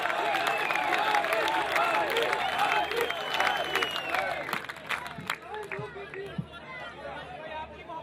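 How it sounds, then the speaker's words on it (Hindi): An audience at an Urdu poetry mushaira claps and chatters throughout, a steady crowd roar of clapping with voices mixed in, moderately loud and continuous. "तालियां बजाएं, तालियां बजाएं।"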